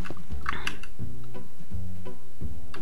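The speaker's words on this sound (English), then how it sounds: "Nope, that was the sound of a bee entering its hive." A Minecraft bee enters its hive in a cave-hunting game, heard as a quick run of clicky, mechanical ticking and buzzy knocks in close succession, fairly loud, with no talk.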